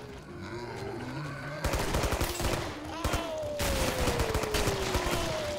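Rapid bursts of Tommy gun fire in a 1920s-themed video game, loud, close, and sustained in dense rattling volleys with a sliding tone running underneath.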